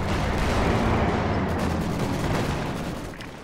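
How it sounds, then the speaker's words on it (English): An anti-tank gun fires at a tank in a Company of Heroes match, a heavy booming blast that fills the mix and rumbles, then slowly fades over a few seconds. "Zis sets up, gets one shot off on the P4."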